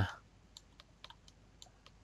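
Computer keyboard and mouse clicks during 3D UV layout work in headus UV Layout, a handful of faint, sharp, separate clicks spread over a quiet background hum.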